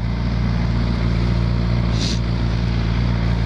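A loud motorcycle exhaust with the silencer fitted idles close by, a thick, steady low rumble throbbing evenly, with a brief hiss partway through.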